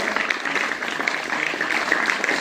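An audience at a jayanti commemoration event for Lokshahir Annabhau Sathe claps steadily, a dense, continuous patter of many hands at even strength.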